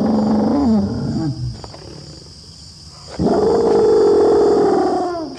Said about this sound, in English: for the first time in his life, he issues a mating call.